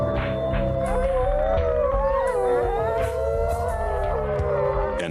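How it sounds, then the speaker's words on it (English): A wolf pack howls together in the wild, several long overlapping wavering howls rising and falling in pitch, loud and sustained with no talk. "Howling helps them muster."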